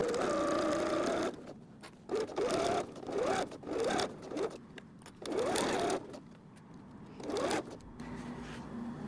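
Sewing machine stitching cork fabric layered over quilting cotton for a pencil case, running in short bursts of rapid mechanical whirring separated by brief pauses, up close with no talking.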